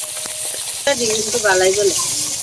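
Fish fries in hot oil, giving a loud, steady, close sizzle throughout while a voice talks over it.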